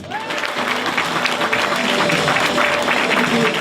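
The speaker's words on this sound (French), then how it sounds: "On peut l'applaudir une nouvelle fois bien fort." Roadside crowd applauding a rider at the Circuit International des Ardennes 2018 cycling stage race, a dense, steady burst of clapping and cheering with a faint announcer's voice underneath.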